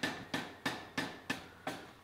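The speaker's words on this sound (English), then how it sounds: "It goes an awful lot quicker under the power hammer than doing it by hand." A power hammer pounds hot steel for an axe-hammer head in a forge, striking about seven evenly spaced blows in quick rhythm, each a sharp metallic thud with a short ringing decay.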